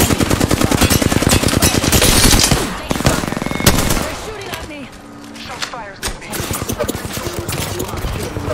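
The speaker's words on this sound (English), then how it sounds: "Shots fired." Automatic gunfire in the shooter game Apex Legends comes in loud, rapid bursts, with a lull in the middle and then more shots. A voice speaks over the firing.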